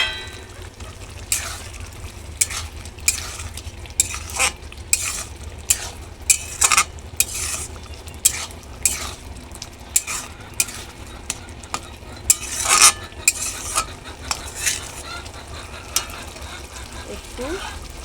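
Prawns frying in a pan for a Bengali prawn malai curry, a low sizzle broken by repeated sharp scrapes and clinks as a utensil stirs them, close and fairly loud.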